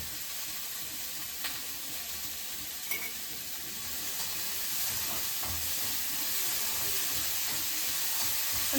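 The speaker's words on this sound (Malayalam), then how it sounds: "ഈ ഷിംല മിർച്ചിയും സവാളയും കൂടെ നമുക്ക് അതിനകത്തിട്ട് വഴറ്റാം" Capsicum and onion sautéing with salt in a pan, an even broadband sizzle that swells slightly louder partway through, with faint scattered stirring clicks and no voices.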